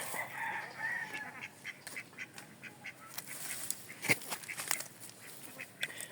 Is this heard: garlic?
no